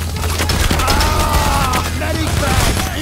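Sniper rifle gunfire in the heist shooter Payday The Heist, loud rapid cracks and bursts of shooting layered with other weapon fire and a tonal alarm-like whine, dense and continuous throughout.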